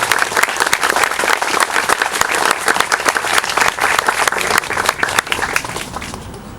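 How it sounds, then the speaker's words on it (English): Loud, dense applause from the crowd at the Jackson Street Albany House grand opening celebration, sustained clapping that holds strong for several seconds before easing slightly at the end. "I would just ask you to recognize Justice with your applause."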